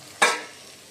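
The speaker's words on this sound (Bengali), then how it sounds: "এই হচ্ছে মশলা কষানো" Masala frying in a pan, a single short burst of sizzle and stirring that flares up suddenly, then fades quickly to a low hiss, close and fairly loud with no talking.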